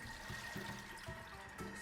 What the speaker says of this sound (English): let's drain the water out using the simmering basket, because it also acts as a strainer